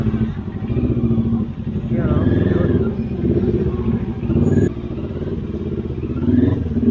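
A motorcycle engine rumbles steadily up close, with the revs rising and falling, as a voice speaks over the noise.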